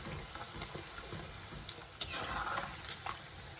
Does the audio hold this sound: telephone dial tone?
no